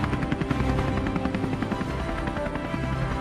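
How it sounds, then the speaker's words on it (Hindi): Cartoon helicopter, an ultra fighter model, hovering in the air with a steady, dense rotor and engine drone that stays loud and close throughout. "छोटू हेलीकॉप्टर को वहीं हवा में रोक देता है"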